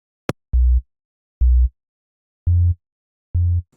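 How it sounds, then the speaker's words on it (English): A deep, pure FM synth sine-wave sub-bass tone in Bitwig Studio plays four short notes in a slow, evenly spaced pattern, preceded by a single sharp click. "this is a patch that is a very simple kind of subby sine wave"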